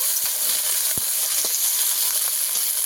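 Okra frying in a pan, a steady close sizzle and hiss throughout with a few brief clicks or stirring taps, no voices.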